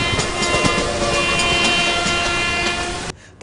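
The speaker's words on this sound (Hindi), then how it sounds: "जो ट्रेन का ड्राइवर होता है वो काफी तेजी से हॉर्न बजाने लगते" An Indian Railways train rolls loudly and continuously with rhythmic wheel clatter and a sustained horn-like tone, close by, after an emergency chain pull, cutting off abruptly near the end.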